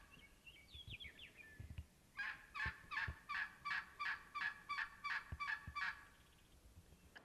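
Wild turkeys on a South Dakota creek bank break into a rapid rolling gobble, a run of about ten pulsing calls at a moderate distance after a few faint earlier notes.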